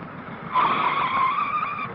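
A big 1930s car speeds off with a loud, sustained tire squeal rising partway through, close and alone without voices.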